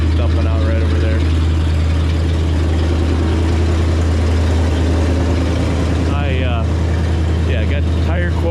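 An Oliver corn picker engine idles loud and steady with a rough, noisy exhaust dumping out nearby, a constant low rumble throughout with a brief voice breaking in near the end.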